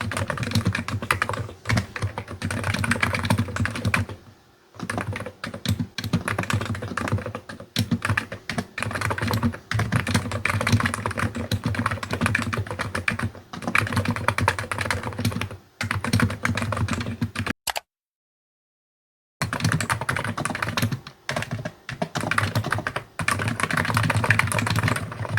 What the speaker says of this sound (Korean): 한성 키보드는 노브 무접점으로 상당히 보글보글하는 소리가 나는데요